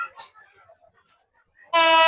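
A train entering Chittagong station sounds a loud, sudden horn blast near the end, after a near-quiet stretch of faint station noise.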